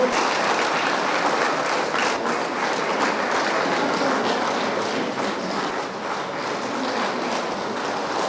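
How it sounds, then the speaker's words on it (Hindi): An audience claps loudly and steadily at an International Labour Day celebration in Pasighat, a sustained, dense wash of applause with no breaks, heard alone. "जोर से ताली बजाइए।"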